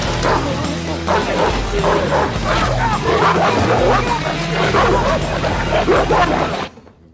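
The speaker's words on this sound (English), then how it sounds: "Is one dog bite enough for you to learn your lesson, Eddie?" Cartoon dog barking, yipping and whimpering while biting, loud frantic repeated barks with a voice mixed in, ending abruptly.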